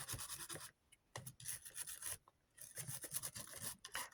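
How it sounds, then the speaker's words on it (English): Repeated scrubbing rasps over the plastic shell of a 1988 Spectravideo Quickshot joystick, close and steady strokes broken by short pauses, a dry bright scratchy rubbing with no talk. "Scrubbing any of the actual main plastic area."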